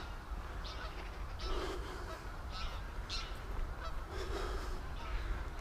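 Canada geese honk repeatedly at a distance, short nasal calls scattered over steady outdoor background noise, fairly faint but clearly audible.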